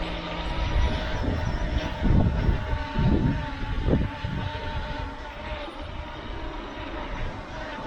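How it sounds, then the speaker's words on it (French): A JJRC X9P drone, a small 249 g quadcopter, whirs with a steady, loud motor drone that swells and fades slightly as it climbs, with no talk. "Le drone monte à environ 30 mètres."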